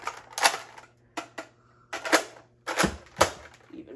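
Plastic clicks and snaps from fitting a magazine and parts onto a Nerf Tri-Strike blaster, several sharp, close knocks and latching clacks spaced through a quiet stretch with no talk.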